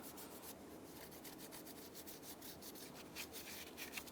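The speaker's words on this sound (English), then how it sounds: "use a scraper or a razor blade and just scrape any excess material" Steady scraping of old gasket material off an engine mating surface on a 2008-2016 Chevrolet Cruze during a water pump replacement, a continuous close rasping rub with slight rhythmic strokes toward the end.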